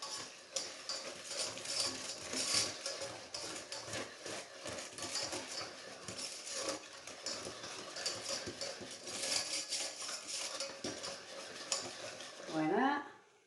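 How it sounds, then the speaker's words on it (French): Stirring ingredients for a no-bake Napoleon cake: a utensil scrapes and clicks around a bowl in a quiet, irregular rhythm, close by, with a brief voice near the end. "On mélange tout."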